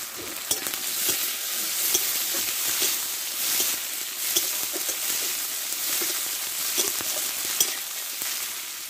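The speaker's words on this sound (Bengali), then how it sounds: "দেখো পেঁয়াজটা লালচে করে ভেজে নিয়েছি, এখানে কেটে রাখা একটা টমেটো দিয়ে দেবো।" Chopped tomato added to onions fried reddish brown in a pan for a fish-head curry with ridge gourd, a loud close sizzle with repeated scraping stirs of a spatula, continuous and without talk.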